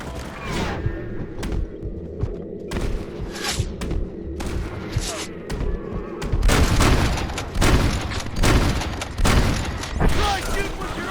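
A Red Dead Redemption shootout: repeated gunshots and booming reports ring out against a steady background rumble. The shooting grows denser and louder in the second half, and voices speak amid the fire.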